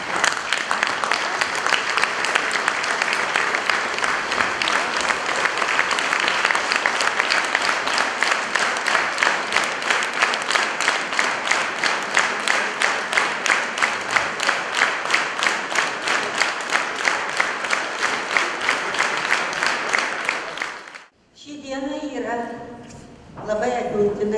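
A school hall audience gives long, dense, steady applause for teachers who served many years at a 150th anniversary celebration, ending abruptly before a voice speaks.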